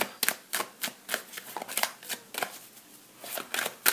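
Tarot cards are shuffled and flipped over by hand in a quiet room, making a series of soft, crisp riffling bursts in an uneven rhythm.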